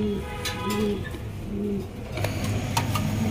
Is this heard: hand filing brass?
no